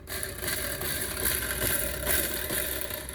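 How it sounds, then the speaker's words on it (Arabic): Motorcycle engine built from scrap parts idles steadily nearby, a continuous rattling mechanical drone with slight surges and no talk over it. "دي حاجات يا باشا موتوسيكل من الخرد زي ما انت شايف. سامع؟"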